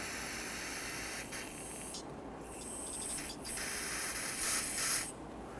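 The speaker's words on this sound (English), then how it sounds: "just gently spray some solvent in there" Several short bursts of hissing aerosol brake cleaner solvent sprayed into a 2006-2014 Honda Ridgeline front brake assembly, faint and close, separated by brief pauses.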